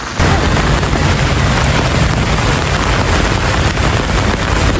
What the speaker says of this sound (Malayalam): അവളുടെ ജീവിതത്തിൽ ഇതുവരെയൊക്കെ ആയിട്ട് ഇതുപോലുള്ള ഒരു മഴ കണ്ടിട്ടില്ലെന്നാണ്